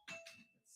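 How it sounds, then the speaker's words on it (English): A household doorbell gives a brief two-note chime, faint and a little distant, over in well under a second. "That's the doorbell."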